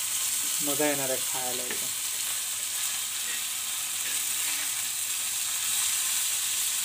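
Prawns fry in a pan with steady, loud sizzling throughout, stirred now and then, while someone speaks briefly near the start.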